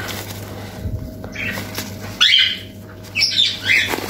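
Yellow parrot chicks squawk in a few short, close, harsh bursts over a low steady hum, the calls bunching toward the end.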